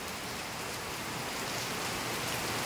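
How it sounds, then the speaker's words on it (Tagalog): Heavy afternoon rain pours down in the Philippines, a dense steady roar of water close by with no break and nobody speaking. "Parang binubuhos ang ulan ngayon dito sa amin ngayong hapon na ito."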